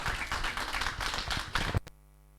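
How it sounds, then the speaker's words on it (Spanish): A lecture audience bursts into warm applause for the speaker opening the series, a dense run of close, continuous clapping that stops abruptly after about two seconds. "otro caluroso aplauso le pido para el contador y la apertura del ciclo"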